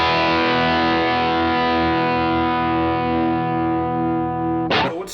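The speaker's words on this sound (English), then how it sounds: "sounds kind of like stacking two overdrive pedals in a row going into the amplifier" A single heavily distorted electric guitar chord through a Red House Electronics Eagle Feather high gain overdrive pedal rings out and slowly decays, thick with overtones, before a brief scrape of strings at the end.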